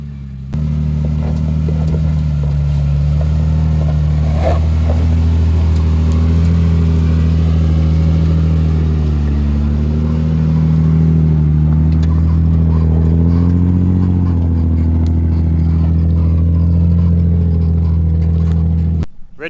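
BMW X5 with faulty traction control and ABS warning light revving hard as it climbs out of an off-road track, a loud steady engine drone with rising and falling pitch and some clatter throughout.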